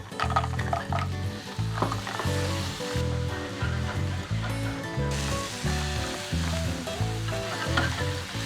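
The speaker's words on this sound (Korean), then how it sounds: "채소가 다 볶아졌을 때 홍합과 다시마를 넣고 한 번 더 볶아주겠습니다." Mussels and kelp stir-fried with vegetables in a pan, a loud steady sizzle with repeated rhythmic scraping and tossing strokes over close, dense frying crackle.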